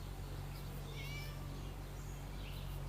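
A cat meows while locked up in the video game Scary Teacher 3D. The short, faint cries sit over a steady low background hum, and no one speaks.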